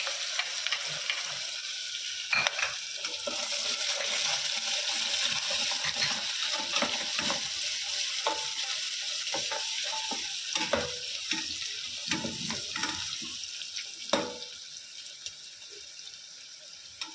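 Chopped onion and whole spices with a pinch of asafoetida frying in a pan for daal palak, a steady close hiss with scattered sharp crackles and spatula scrapes, no voices.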